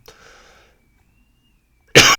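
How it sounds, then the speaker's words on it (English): A man with a cold lets out one sharp, loud cough up close, preceded by a faint breathy throat noise and near silence. "I have a cold and I keep on having to pause to cough."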